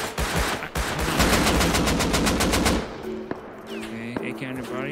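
An AK rifle fires in the survival game Rust, first in rapid automatic bursts for almost three seconds, then a few sparse single shots among game effects, loud and close.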